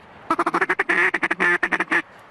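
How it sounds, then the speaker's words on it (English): A double-reed duck call blown in a quick run of raspy quacks, a rapid series of short bursts with a few longer drawn notes, close and loud against a quiet background, no talking. "came up with the first double-reed duck call"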